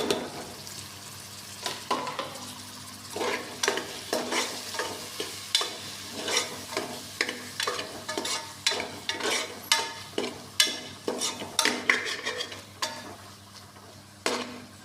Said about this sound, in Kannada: ಚೆನ್ನಾಗಿ ಮಿಕ್ಸ್ ಮಾಡಿ ಸ್ವಲ್ಪ ಎಣ್ಣೆ ಬಿಡಬೇಕು